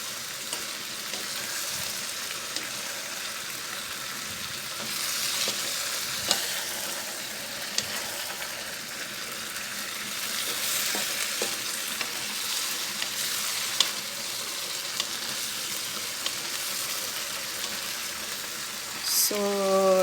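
Vegetables for pakbet with chicharon sizzle in a pan while being stirred, a steady bright frying hiss broken by soft scraping strokes and a few clinks of the utensil, with a brief clatter near the end.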